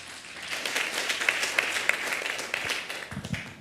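A church congregation at a Sunday morning service claps together in a lively, steady burst, with a few louder claps standing out and the clapping thinning near the end as a voice begins to come through.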